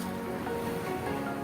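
Sea waves wash in on a beach at La Union, a continuous, fairly loud rushing surf with no clear breaks and nothing else standing out.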